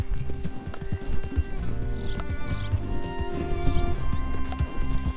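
A horse galloping in Red Dead Redemption II, with a rapid, continuous drum of hoofbeats over dirt and a busy layer of ambient game sound.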